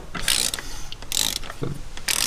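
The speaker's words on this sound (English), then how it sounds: "Let's torque them down, boys." Ratchet wrench torquing engine bolts on an LS1 V8 during a big-cam build, with several bursts of quick close clicking separated by short pauses, fairly loud and without talk.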